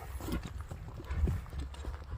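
Hooves of a light riding horse clip-clop in a steady, fairly close rhythm, with an uneven patter of strikes and no talking over them.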